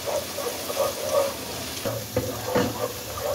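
Garlic ginger paste frying in a pan for chicken yakhni pulao, a continuous sizzling hiss with intermittent spoon stirring and scraping, moderately loud and close, with no talking.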